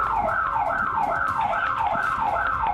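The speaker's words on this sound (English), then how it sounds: "And triggering an alarm." An alarm siren wails in a rapid, repeating rise-and-fall whoop, loud and continuous, about six cycles sounding alone without voices.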